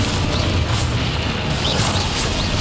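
A Confringo fire spell from Hogwarts Legacy goes off in a dense, booming burst of blasts and crashes that fills the whole moment, loud and close.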